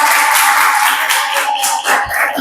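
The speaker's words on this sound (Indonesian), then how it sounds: "Tepuk tangan." Applause in a classroom after a group presentation: a dense, bright clatter of many hands clapping together, loud and close, tapering slightly near the end, no voices.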